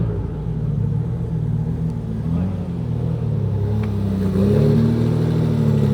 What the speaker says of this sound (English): you got the Testarossa pulling out